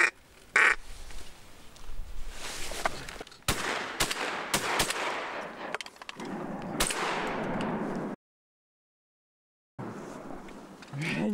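Shotgun blasts ring out during a northern duck hunt from a tent camp in rain and north wind, a handful of sharp cracks spread over several seconds amid rustling, with people talking around them.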